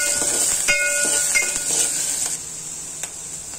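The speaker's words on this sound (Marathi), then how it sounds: "त्याच्यात थोडंसं तेलामध्ये फोडणी घातली आहे, कांदा आणि मिरची" Onion and green chili are tempered in a little hot oil in a pot on a gas stove for a Goan fish curry. A loud, bright hiss runs under sharp clinks and scraping from stirring. The hiss eases off in the last second.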